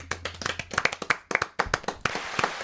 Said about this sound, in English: Let's give her a Podzuki applause of dedication to the craft.